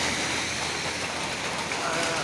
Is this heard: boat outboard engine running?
no